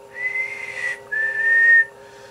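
Steady whistling into a radio microphone while testing a small two-tube 10-meter linear amplifier, two sustained tones with a brief gap, loud and close with no talking.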